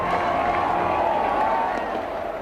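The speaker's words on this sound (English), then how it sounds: "it feels to me as though the crowd here are on their way to a football match" Huge crowd at the Black Nazarene religious procession in Manila, a dense continuous roar of many voices and shouting, loud and steady throughout with faint claps.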